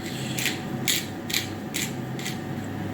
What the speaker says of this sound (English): I add pepper, like maybe it's a bit like I like having like grind it